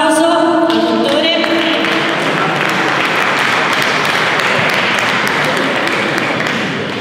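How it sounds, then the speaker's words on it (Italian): Applause for a doctor in a hall, loud steady clapping from a seated audience that starts as a voice fades and continues evenly throughout. "Un applauso al dottore."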